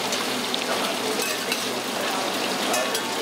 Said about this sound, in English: So kumukulo na yung butter.